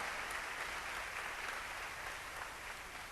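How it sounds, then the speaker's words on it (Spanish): An audience at a Latino church gathering applauds continuously for a few seconds, a dense wash of clapping with no voices over it. "Un aplauso por eso."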